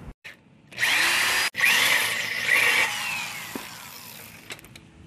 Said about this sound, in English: Then I'm just gonna widen the hole on this aluminum.